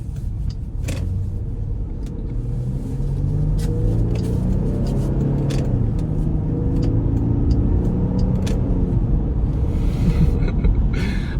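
A car with a larger-than-four-cylinder engine pulls away and accelerates while driving, giving a loud, steady low rumble that builds gradually as it gains speed, with some road and cabin noise and occasional small clicks and knocks.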